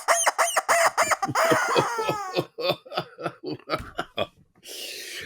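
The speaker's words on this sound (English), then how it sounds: "And the rubber chicken says." A rubber chicken toy squawks in a rapid series of loud, harsh honks and clucking squeals, ending with a drawn-out wheeze of air, heard alone and close.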